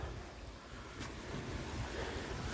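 Creek water flowing down from a reservoir, a steady broad rushing wash heard close, continuous and fairly loud, with some wind buffeting over it.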